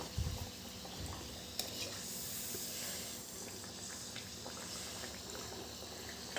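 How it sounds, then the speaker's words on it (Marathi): Thick sweet ghuni papdi puri frying in oil over a low flame, a steady soft sizzle and hiss with faint crackles and a few small pops, close and continuous without talk. "मंद आचेवर आपल्याला ती फ्राय करायची आहे"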